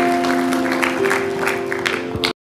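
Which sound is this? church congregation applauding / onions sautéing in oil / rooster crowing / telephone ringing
church congregation applauding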